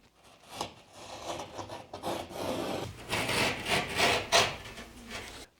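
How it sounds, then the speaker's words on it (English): Drywall being scored with a razor blade along a clamped straight edge: close, rough rasping strokes that build in intensity over several seconds with brief pauses between passes, no talking. "Take your razor blade, we're gonna score it."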